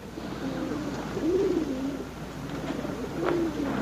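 Pigeons coo softly in a few gentle, rolling phrases spaced across a few seconds, fairly faint against a quiet background hiss.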